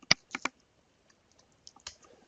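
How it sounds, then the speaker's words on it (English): Short bursts of typing on a computer keyboard, a few close, crisp key clicks followed by quieter scattered taps, with no talking. "and start typing"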